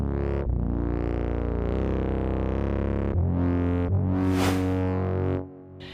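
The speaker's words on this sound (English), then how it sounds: "This is just a nasty fifth hard lead." A gritty, distorted hard lead synth voiced in fifths, played in a Pro Tools trap beat production, with several sustained, buzzy notes shifting pitch and a bright noisy swell near the end before cutting off.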